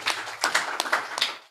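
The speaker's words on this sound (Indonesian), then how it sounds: "Tepuk tangan bagi Yesus." A church congregation claps hands together during a sermon, a dense run of sharp irregular claps overlapping in a busy, roomy burst.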